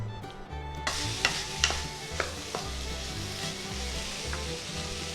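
Vegetables with red cabbage, salt and cumin powder sautéing in a pan, a soft continuous sizzle broken by a few sharp spatula taps and stirs, close and fairly quiet.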